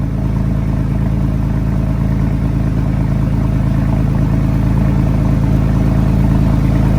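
A Porsche 911 with a very loud exhaust idles on a cold start, a deep, steady, rumbling burble that stays constant and close with no revving or voices.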